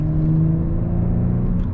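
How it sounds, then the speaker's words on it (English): A car's exhaust note droning steadily at fairly high engine speed, with automatic transmission held in manual paddle-shift mode, close and loud with a strong even hum and no talk. "You can listen to the exhaust note of the car."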